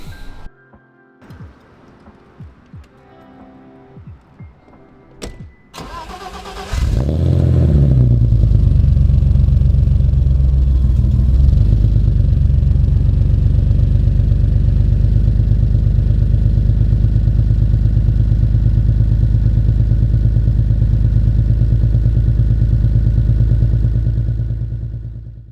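A car with an M20 engine starts up after some brief clatter and then runs loudly with a steady, close engine rumble for about twenty seconds before the sound tails off.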